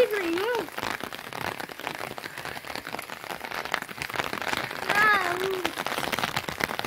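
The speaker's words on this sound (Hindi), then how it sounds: "बारिश हो गई है गाइस फाइनली" Village rain patters steadily on surfaces in hot, sunny weather after a storm, a dense close hiss of drops with people talking over it.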